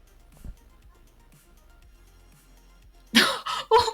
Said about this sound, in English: one sec, got a cough.